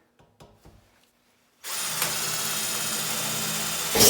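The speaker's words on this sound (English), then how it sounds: "So all I'm going to do is put in some rivets" A power drill sets rivets into the top of a dust collection barrel, starting after a few soft handling taps and then running as a loud, close, continuous whine that holds steady to the end.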